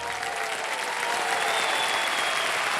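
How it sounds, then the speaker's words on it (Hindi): A studio audience on the Kaun Banega Crorepati game show bursts into steady applause, dense clapping rising slightly and filling the room for a few seconds. "ताली बज जाए इनके लिए"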